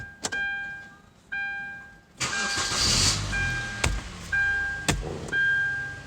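A Hyundai Sonata, fueled with gasoline, cranks with a rough whirring burst and then catches and runs. Chimes from the car ring steadily before and after the start.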